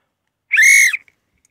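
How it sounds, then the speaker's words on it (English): One loud, shrill whistle blast sounds close by for about half a second, alone in otherwise quiet surroundings. "there's my whistle. That's my whistle."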